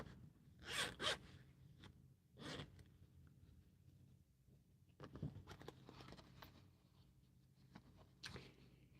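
A zipper on a handmade canvas-like fabric pouch is pulled in several quick, close rasping strokes, with short quiet gaps between the bursts.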